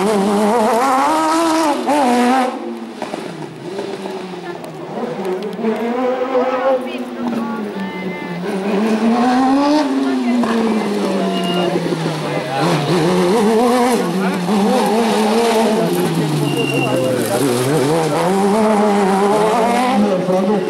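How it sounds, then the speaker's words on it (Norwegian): Cars drifting on a track at a motor day in Vikersund, engines revving and wailing up and down as they slide through corners, loud and sustained throughout with overlapping engine tones. "Drifting og så videre."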